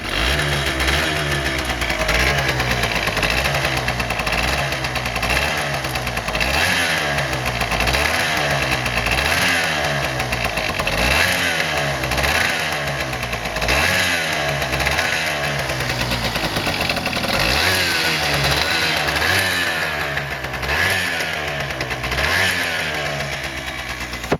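A 1992 Honda Dio SR scooter engine running with its stock airbox, a continuous two-stroke putter that rises and falls in rhythmic revs for over twenty seconds, close up and fairly loud, with no talking.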